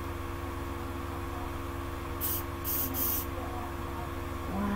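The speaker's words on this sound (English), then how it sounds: "They're spraying down my chair." A few short hissing bursts of spray clean down a chair after a hot sauce challenge, set over a steady room hum.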